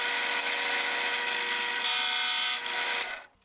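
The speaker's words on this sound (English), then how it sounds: "I drilled 4 3/8 inch holes along one long side of the tray with a Forstner bit" A drill turns a Forstner bit into a wooden tray to bore flat-bottomed 3/8 inch holes, a steady high whirring grind that holds evenly, shifts slightly, then winds down and stops.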